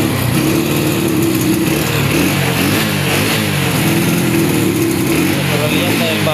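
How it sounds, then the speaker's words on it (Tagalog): A new Rusi Bolt 125 motorcycle engine warms up at a steady idle and runs continuously and loudly at close range, with a rough low rumble under talk from nearby people. "Pang warm up ng makina ng Rusi Bolt 125"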